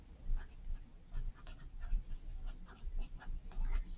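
A marker or pen scratches across a large sheet of paper in short, rhythmic strokes, close and fairly loud, with a soft low rumble beneath.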